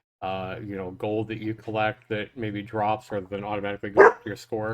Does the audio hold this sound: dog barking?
yes